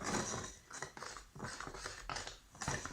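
A spoon scrapes and knocks rhythmically around a bowl while stirring pizza dough mixed with garlic, the repeated strokes close and fairly quiet.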